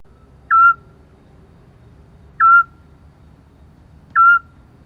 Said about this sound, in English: And it's owls, Scops owls